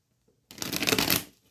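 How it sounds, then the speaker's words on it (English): A deck of tarot cards is riffled in one quick burst of about three-quarters of a second, a close, dense papery flutter that begins abruptly, swells and then tapers away. "Let's give this bad boy a quick shuffle."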